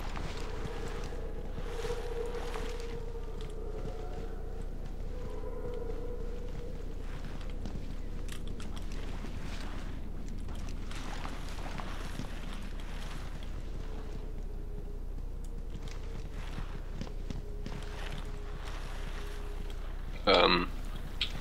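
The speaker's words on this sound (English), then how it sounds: "I hear an engine." A vehicle engine in the video game Ghost Recon Advanced Warfighter gives a steady low drone that runs throughout under faint wind-like noise, with a brief sharp burst near the end.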